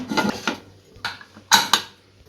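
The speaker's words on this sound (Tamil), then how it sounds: "இப்போ குக்கரை மூடி விசில் போட்டுடலாம்" Metal clanks and clatters a few times close by as a pressure cooker lid is set and locked into place, with quiet gaps in between.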